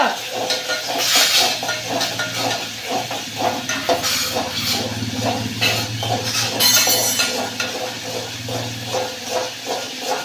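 Tomatoes sautéing in a pan over a gas flame turned up high, with a steady sizzle and hiss plus repeated stirring scrapes and clinks of a spoon against the pan, close and continuous.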